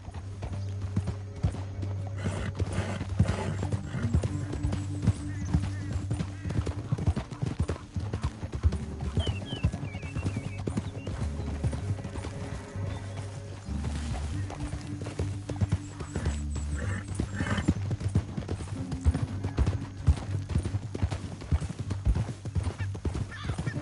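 Steady horse hooves clip-clopping at a brisk, even trot throughout in Red Dead Redemption 2, with an occasional whinny and a low background drone.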